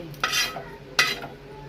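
Two bursts of hissing sizzle about three-quarters of a second apart as spices temper in hot oil for tamarind rice, with faint stirring clatter under a steady background hum.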